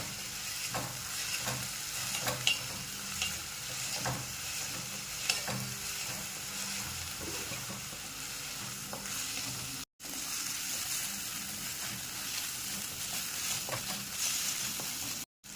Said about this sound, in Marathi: इथं मी आपले कांदा टोमॅटो मिरची आणि पालक एक मिनटं परतून घेतलं आहे